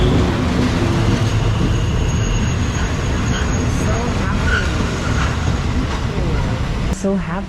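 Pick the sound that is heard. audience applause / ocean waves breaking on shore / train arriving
train arriving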